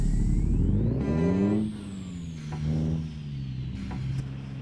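A Kenworth T680 truck in the American Truck Simulator video game, with a loud engine drone that rises then falls and settles into a steady hum, plus a faint whistle overhead and a brief hiss, no talking.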